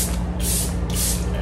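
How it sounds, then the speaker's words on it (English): Setting spray mists onto a face in two close, hissing bursts, each lasting about half a second, over a steady low background hum. "Alright, we're gonna spray our face."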